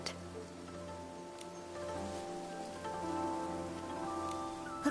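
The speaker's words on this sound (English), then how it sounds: "And that evening, it rained." Rain falls during a cutscene in the video game Infinity Nikki, a steady patter of drops layered over soft sustained background music tones, no voices.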